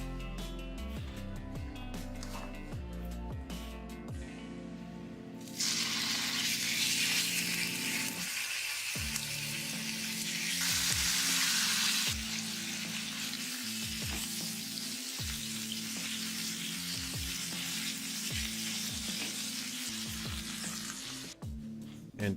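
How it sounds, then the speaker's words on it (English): Pieces of piglet meat fry in a pan with a dense, loud hiss, surges of sizzle and splatter, and repeated clanks and scrapes of a utensil against the pan, close up throughout. "Fry piglet meat."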